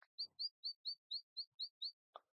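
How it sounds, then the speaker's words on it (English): Birds chirp outside a bedroom in the morning, a quick run of eight evenly spaced bright tweets, clear and fairly close, with a soft rustle and a brief low sound around them. "Even from beneath the covers, I can hear the chirps of birds outside"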